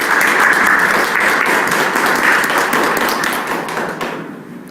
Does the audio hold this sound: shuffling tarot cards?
no